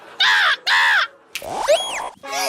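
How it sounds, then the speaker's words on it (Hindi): A crow caws twice in loud, harsh calls close by, then a sliding whistle-like sound and a further burst of noisy calls follow, in a domestic comedy scene. "कौआ।"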